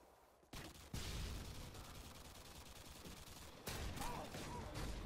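Sustained automatic MP5 fire in a first-person shooter rattles on almost without a break after a short quiet start, growing heavier near the end, all fairly quiet overall.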